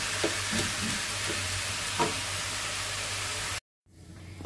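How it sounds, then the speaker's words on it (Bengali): Vegetable bhaji with a little green chilli frying in mustard oil, a steady close sizzle with faint stirring clicks, cutting off abruptly near the end into a quieter hiss. "সুন্দর করে ভেজে নেব আমি"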